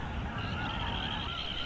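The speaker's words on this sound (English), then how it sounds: "Hundreds of snow geese fill the bay." Snow geese in a winter delta bay on the Salish Sea honk in an overlapping chorus, a dense flock calling continuously at moderate distance.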